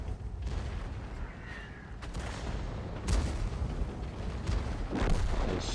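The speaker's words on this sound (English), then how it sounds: "Right now, probably artillery once again." Artillery shells land in World of Tanks, a few dull booming impacts at a middling distance rising above a constant rumbling battlefield background, with no one talking.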